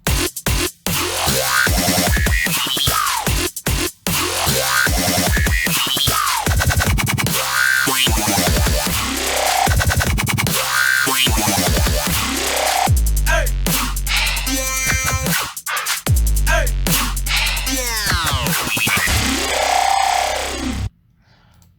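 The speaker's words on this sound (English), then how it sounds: "how to design some dubstep WUB noises within Vital" Loud, aggressive dubstep wub bass made in Vital and Caustic, with growling, wobbling synth tones that sweep and pulse rhythmically, cut by brief gaps, no voices.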